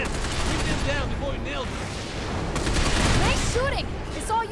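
Rapid bursts of automatic gunfire from the Binary Domain video game, loud and sustained across the moment with overlapping shots and metallic ricochet-like tones, no voices.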